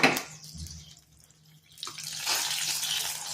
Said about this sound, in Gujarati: એની અંદર જે આપણે પાણીને તેલ ગરમ કર્યું હતું એ ઉપરથી રેડીશું